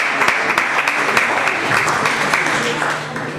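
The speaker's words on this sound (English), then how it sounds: "Please, can you give hand of applause for Mr." Dense, steady applause from an audience at a gathering, close and loud, holding evenly throughout.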